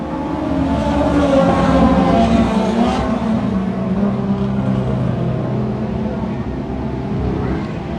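Thunder Car race cars roar away from the green at a short-track speedway feature, a dense, loud, continuous engine drone that holds steady throughout with no pauses.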